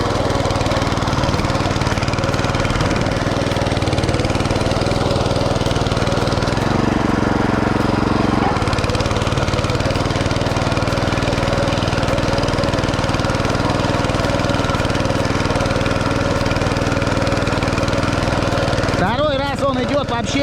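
A Champion BC5712 motor cultivator hills potatoes in a garden plot, its engine droning loudly and continuously up close, the note dipping briefly under changing load before steadying again.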